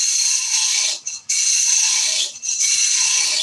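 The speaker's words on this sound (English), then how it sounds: "The lathe's at, how fast is that? That's at 1800 RPM just at the moment." A wood lathe spins a bowl blank at 1800 RPM while light cuts are taken, giving a loud, steady high-pitched hiss and whir broken by two brief dips where the tool leaves the wood.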